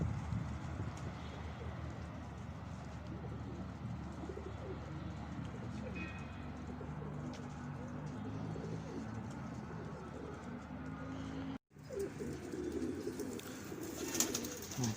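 Pet pigeons released outdoors after rain, soft cooing and wing and foot activity under a continuous outdoor background, with a brief dropout near the end.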